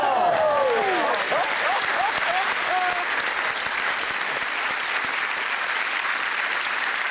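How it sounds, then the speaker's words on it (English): A television panel-show studio audience claps and applauds, steady dense clapping that stays loud throughout, with a voice briefly talking over the start. "No, you're clapping!"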